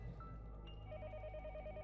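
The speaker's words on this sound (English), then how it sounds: "I hear the phone ringing next door." A telephone rings next door in a visual novel video game, a faint repeating electronic trill heard distantly over a low steady hum, with no voices.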